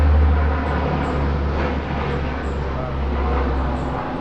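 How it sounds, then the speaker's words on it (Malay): A C-130 Hercules military transport's engines give a steady, loud low drone with a constant deep hum throughout. "Untuk maklumat saudara Adam, itulah bunyi pesawat yang semasa saya terbangkan masa dalam TUDM dulu."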